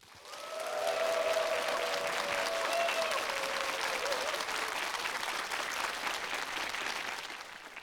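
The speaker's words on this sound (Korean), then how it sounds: "연세대학교 철학과 조대호 교수님을 큰 박수로 맞아주시죠." A lecture audience at a public talk welcomes a philosophy professor with sustained applause that swells quickly and holds steady for several seconds, dense and even, before tapering slightly.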